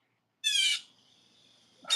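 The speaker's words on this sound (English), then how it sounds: "Yeah, it's a bird. It's pissed that I'm here. That's where its nest is" An agitated bird near its nest gives a loud, harsh call close by, followed by a thin lingering tone and the start of another call.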